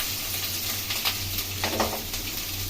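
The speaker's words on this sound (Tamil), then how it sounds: "நம்ம போட்டுட்டு கொஞ்சம் நல்லா ஃப்ரை பண்ணுவோம் ஃப்ரெண்ட்ஸ்" Finely chopped onions fry in oil with curry leaves for a raw banana thokku: a continuous mid-level sizzle over a low steady hum, with brief stirring scrapes partway through, no talking.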